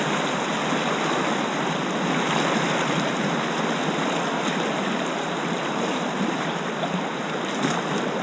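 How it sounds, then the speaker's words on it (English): River rapids on the Lower Youghiogheny at Schoolhouse Rock rush in a steady, loud, close wash of churning whitewater, unbroken for the whole stretch with no voices. "This is one of the very rare rapids that is harder than it looks."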